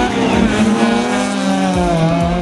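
Drag racing car engines roar close and loud at a drag race, holding a sustained high-revving drone with shifting pitch from start to finish.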